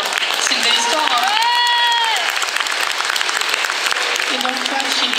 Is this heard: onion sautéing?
no